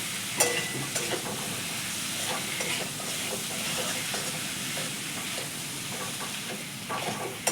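Boiled potatoes frying in a pan for alu dom, with a steady close sizzle and occasional stirring scrapes throughout, and no talk.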